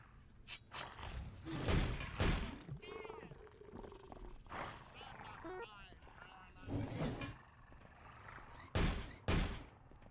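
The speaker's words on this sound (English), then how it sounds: "Sounds like that might be a scrap bear." Deep growling roars from a scrap bear creature in the video game Sword of the Stars: The Pit, rising and falling in bursts among clanking mechanical thuds and effects.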